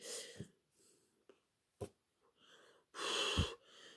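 A woman yawns close to the microphone, with scattered soft breaths and sniffs leading into a long, breathy, drawn-out exhale near the end.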